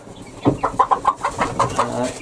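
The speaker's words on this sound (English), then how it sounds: "these chicks were hatched last month, and they have been transferred into the hen house and the run" Month-old young chicks inside a hen house with a run, giving a quick series of close, high chirping cheeps in an uneven rhythm, clear and fairly loud.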